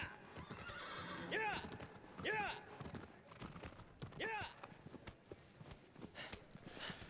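Three loud neighing whinnies from Phaedra, a giant horse-like colossus in Shadow of the Colossus, ring out over clopping hoofbeats and ambient game rumble, with a voice talking underneath.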